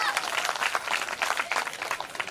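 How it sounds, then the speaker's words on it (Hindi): Audience at a village Bhagavat Katha religious gathering clapping for children, a brief dense burst of fairly close applause with some voices mixed in. "इन बच्चों के लिए भी तालियां बजा दीजिए।"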